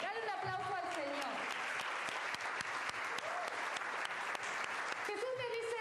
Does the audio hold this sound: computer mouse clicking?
no